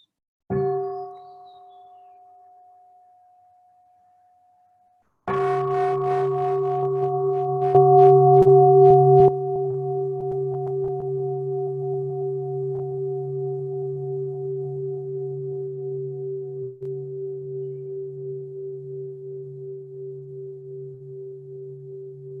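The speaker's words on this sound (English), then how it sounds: "So I will invite to sound the bell before we move into" Mindfulness bell sounded at a Buddhist Buddha Purnima gathering: a first clear strike fades away, then a second strike rings out with a rich sustained tone that decays slowly and gently pulses for a long time, with no talk over it.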